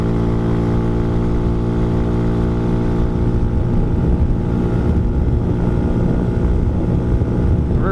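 A 2020 Hawk 250 motorcycle cruises on the freeway, a steady, loud engine drone under constant wind rush, with no pause throughout.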